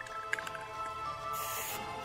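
Spray paint hissing from an aerosol can onto a homemade Halloween cemetery fence, one short steady spray burst near the end after faint clicks and handling noise.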